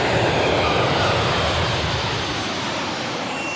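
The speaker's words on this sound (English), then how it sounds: "At Sydney Airport, Kabali's plane has just arrived" Plane arriving at Sydney Airport, heard as a steady, loud broadband engine roar that holds constant throughout with no voices.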